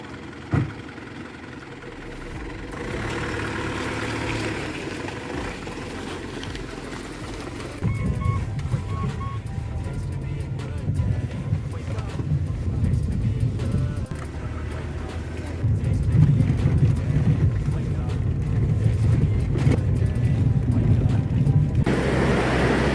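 A car engine drones steadily inside the vehicle while riding up toward Mount Ramelau in Timor-Leste, a low rumble with road and wind noise that grows rougher and louder as the drive goes on, with no talk.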